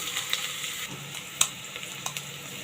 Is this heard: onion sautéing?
yes